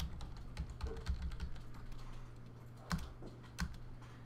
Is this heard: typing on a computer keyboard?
yes